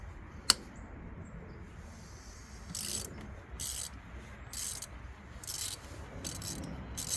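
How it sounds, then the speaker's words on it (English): Ratchet clicking in short bursts as it removes an ignition coil bolt on a 2003 Chevy Trailblazer, several brief rattling runs of pawl clicks close by over a quiet background, with a single sharp tap near the start. "you ratchet it off very carefully"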